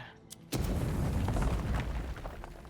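A grenade goes off in the fantasy game Avowed, one sudden loud blast after a short quiet lead-in, followed by a rumbling, crackling decay.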